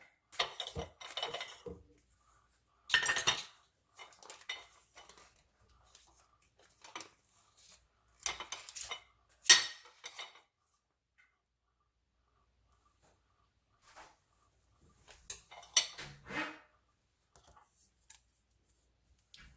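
Cooked potatoes mashed with butter in a pot, irregular bursts of dull thumps and scrapes from the masher separated by quiet gaps, close with no talking.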